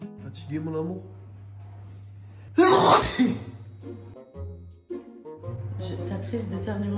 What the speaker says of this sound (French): Crise d'éternuement à cette heure-ci le matin quand j'ai pas dormi